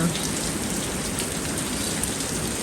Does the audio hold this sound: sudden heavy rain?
yes